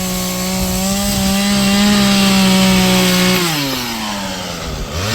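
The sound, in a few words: chainsaw cutting wooden beams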